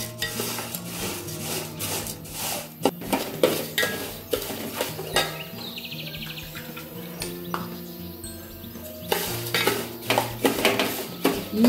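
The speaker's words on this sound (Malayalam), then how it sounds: "അതിൽ കുറച്ച് 2 സ്പൂൺ നെയ്യ് ഒഴിച്ച് വറുത്ത് എടുക്കാം" Vermicelli roasting in ghee is stirred briskly in a pan, giving loud repeated scraping and rasping strokes of the spoon against metal in an uneven rhythm, close and prominent.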